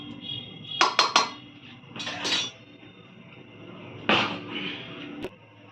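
A spoon mashes ingredients for misal pav in a pot, with a few sharp metallic clinks and scrapes in short bursts separated by quieter pauses, close and moderately loud.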